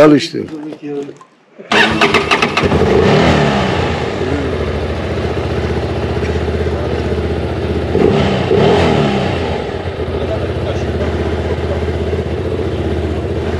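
A motorcycle engine catches and starts, then revs and idles roughly with a steady, loud throbbing; a brief voice is heard just before it fires.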